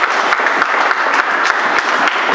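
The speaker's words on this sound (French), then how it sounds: "Acclamons le Seigneur." A church congregation claps together in steady, dense applause that fills the space at close range and holds without a break, with no voices standing out above it.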